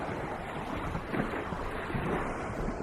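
Ocean by the shore, a steady broadband wash of surf mixed with wind buffeting the microphone, continuous and fairly close with no voices.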